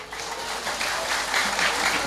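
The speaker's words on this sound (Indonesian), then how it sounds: "Tepuk tangan dulu." An audience at a wayang shadow-puppet performance breaks into sustained applause, a dense wash of many hands clapping at moderate distance, swelling slightly toward the end with no voices on top.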